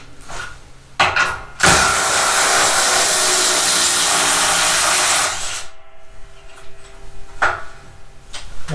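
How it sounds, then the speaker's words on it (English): A Craftsman V20 brushless cordless impact driver runs loud and close, with a short burst, then a sustained whirring run of about four seconds, then a few brief blips. "So this is a great little drill."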